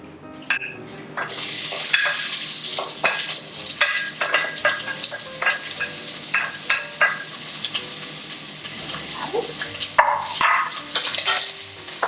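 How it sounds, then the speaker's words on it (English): Onions fry in two to three tablespoons of oil in a pot over medium-high heat, giving a loud, steady sizzle with repeated stirring scrapes and utensil clinks on top. "with the other ingredients in a pot here with oil, 2-3 tablespoons, and starting with the onions."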